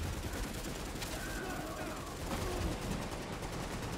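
Gunfire in The Division co-op play: a dense, continuous barrage of shots and bursts crackling steadily throughout, with no gaps, suggesting several weapons firing at once.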